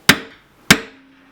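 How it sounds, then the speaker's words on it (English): Two sharp metallic hammer strikes on a punch against a stainless steel sink, about half a second apart, each ringing briefly; the second leaves a faint lingering tone. "I'm going to just punch where I need to place this"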